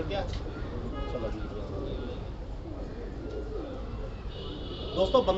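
Soft pigeon coos rise and fall amid outdoor ambience, with a person talking nearby and some background rumble.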